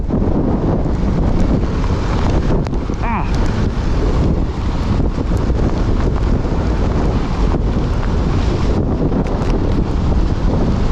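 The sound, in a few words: storm wind blowing while riding a Kawasaki motorcycle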